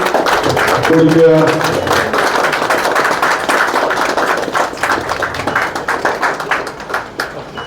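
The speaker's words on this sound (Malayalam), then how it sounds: "കൈയടി കൊടുക്കുക." Audience clapping at a Malayalam film pooja ceremony for the movie Nool, steady dense applause mixed with chatter and taps that gradually thins out toward the end.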